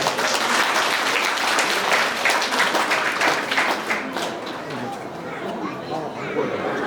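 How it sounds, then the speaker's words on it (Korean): Wedding guests applauding at a Korean wedding ceremony, a thick, loud burst of many hands clapping that slowly thins out, with chatter and voices mixed in underneath. "박수 부탁드리겠습니다"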